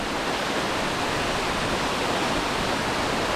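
Waterfall pouring into a natural bathing pool in autumn, a loud, continuous broadband roar of rushing water that stays even and close throughout with no voices.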